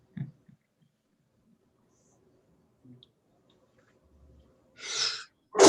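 A person sneezes during a tabletop roleplaying session, one sharp, loud burst near the end after a mostly quiet stretch with faint murmurs and small noises, followed by a second abrupt blast of breath.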